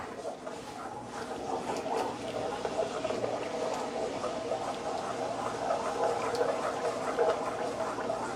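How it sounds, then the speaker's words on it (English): A spoon stirs a homemade chilli pineapple sauce with water, onion and chili flakes in a pan, giving a continuous wet, bubbling swish that stays steady and close for several seconds. "Give it a nice stir."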